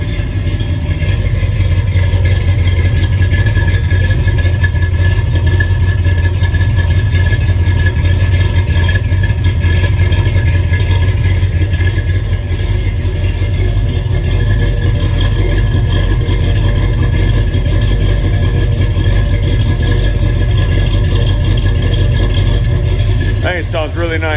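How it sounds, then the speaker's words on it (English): A 1968 Ford truck engine with a Flowmaster American Thunder true dual exhaust runs at a steady, loud, deep idle throughout, with someone talking over it. "It's got a nice exhaust note. I put Flowmaster American Thunder True Dual exhaust."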